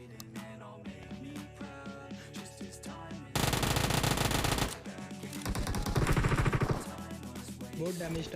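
Gunfire in a battle royale video game comes as loud bursts of rapid automatic shots over continuous game sound and music, dense and sustained through most of the stretch.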